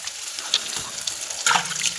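Tap water runs while food is rinsed in a kitchen during cooking, a close splashing trickle with small clinks and spatter, louder near the end.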